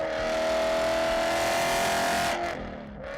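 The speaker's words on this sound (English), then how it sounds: "many BMW fans still say the S65 has one of the best engine sounds ever made" A BMW S65 V8 revs hard, a strong rising high-pitched engine howl held for a couple of seconds before it drops away as the throttle closes.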